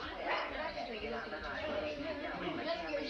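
Puppy yipping and whimpering indoors at a family Christmas gathering, small high yelps and whines scattered among overlapping voices and household chatter.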